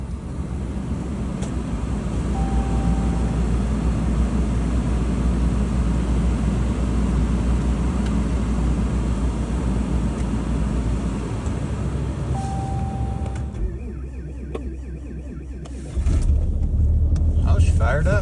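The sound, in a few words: diesel engine cold starting in Alaska winter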